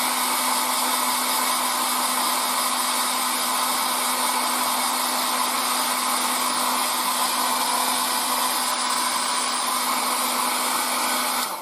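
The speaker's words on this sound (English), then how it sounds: "So again, with the air dryer, and let's go." An air dryer blows steadily on a scale model of the Trumpeter E-50 tank to dry a paint wash, giving a loud, constant whirring hiss with a steady hum that runs unbroken throughout, with no talk.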